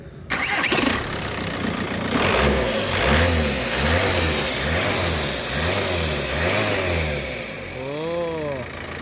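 A VW Caddy with a blown intercooler cranks and starts, then its engine revs up and down in several rising and falling surges before settling, heard close with a voice briefly talking.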